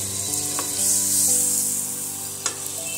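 Butter sizzling in a frying pan while preparing an evening snack with egg and bread, a steady close hiss with broadband crackle, a soft scrape of stirring near the end.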